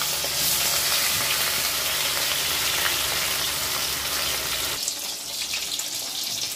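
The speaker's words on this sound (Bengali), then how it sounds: "তেলটা গরম হয়ে গেছে, দিয়ে দিচ্ছি মাছ।" Fish sizzling in hot oil in a pan while cooking a ghot kochu dish, a steady loud crackling fry that runs continuously, thinning slightly near the end, with no talking.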